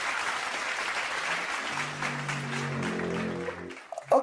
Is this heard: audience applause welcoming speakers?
yes